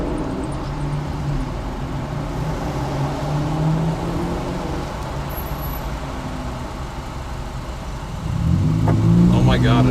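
A Toyota Corolla with a loud, rusty-sounding exhaust drives just ahead on the road, its engine drone rumbling steadily and swelling louder near the end, heard from inside a following car.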